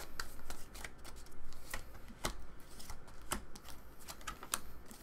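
Tarot-style reading cards being shuffled before a card is drawn: quick, dry riffling and flicking bursts, close and fairly quiet, repeating in irregular clusters with no talking.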